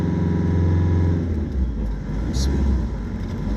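A car rolls past on a street, its engine rumble and tyre noise rising and fading over a few seconds, close by, while people talk.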